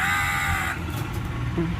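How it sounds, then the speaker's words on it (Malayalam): A crow caws loudly nearby at the start, its harsh call fading after the first second into quieter background noise. "വേറെ കാക്ക, ഈ സമയത്തും വേറെ കാക്ക."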